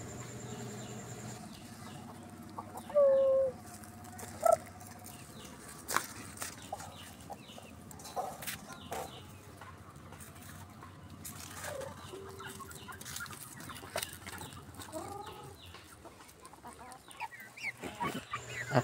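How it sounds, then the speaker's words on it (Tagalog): Native chickens about four months old on a small backyard farm cluck in scattered bursts over quiet rural background, one louder squawk early on, with no talk. "Update ko rin po sa aking mga alagang manok na native."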